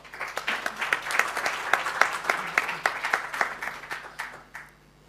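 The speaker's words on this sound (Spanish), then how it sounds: "Un aplauso también" Audience applause at a seminar on transfer pricing in Chile as a prize winner is called forward, a crowd of many hands clapping with crisp individual claps standing out, holding steady and then tapering off at the end.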